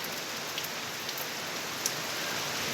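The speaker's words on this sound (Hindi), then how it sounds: "तो यहाँ आ रही है बारिश" Heavy rain pours steadily outdoors, a dense, even hiss with scattered drops ticking nearby, no voices.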